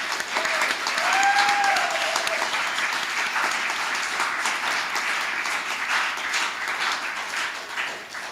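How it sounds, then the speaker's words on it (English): Applause from the audience at a nursing honor society induction ceremony, a sustained wash of many hands clapping indoors, steady and fairly loud, tapering slightly toward the end, with a brief voice or whistle early on. "let's give another round of applause to our inductees this evening"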